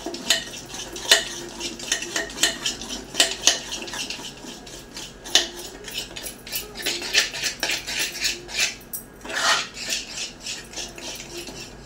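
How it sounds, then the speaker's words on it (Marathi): Khaman dhokla batter is whisked briskly in a metal bowl right after Eno is added, giving a fast, close clatter and scraping of whisk against the bowl with no voices. "इनो टाकलं की फटाफट फेटून घ्यायचं, मिक्स करून घ्यायचं"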